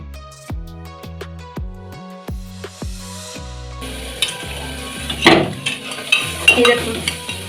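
A shami kabab mixture is stirred in a pan to cook off its water, with a run of hard, ringing spatula knocks against the pan giving way to busy scraping and a soft sizzle.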